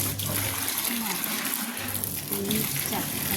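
A hose pipe pours water steadily for a cow outdoors, a constant rushing splash beneath people talking nearby.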